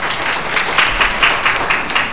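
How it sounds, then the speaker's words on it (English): An audience applauds at a community gathering on peace and anti-violence, the clapping dense and steady, swelling briefly in a few places without letting up across the whole stretch. "give yourself a round of applause for one showing up tonight to gather information"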